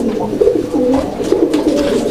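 A pair of pigeons in a cage coos in repeated low, throaty phrases, close and fairly loud, with soft rustles between calls and no voices.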